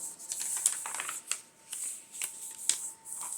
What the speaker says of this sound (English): Oh, I need to fold these in half.